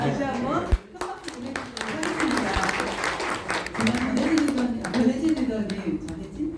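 A crowd applauds at a talk in Bundang, dense steady clapping lasting several seconds with a voice or cheering running underneath.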